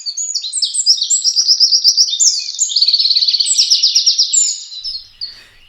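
Birds chatter outside a window in a loud, close burst of rapid high chirping trills lasting several seconds before trailing off.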